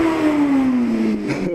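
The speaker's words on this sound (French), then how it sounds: "J'aime bien, ça fait du bruit cette moto." A motorcycle with a straight-through exhaust revs loudly and close, its engine note holding a strong tone that slides slowly downward before it cuts off near the end.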